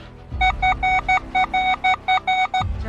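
Repeated high two-tone beeps from a metal detector signalling a non-ferrous target, a medieval silver coin or fibula part in a field, about ten quick chirps in a steady rhythm, close and clear with no talk.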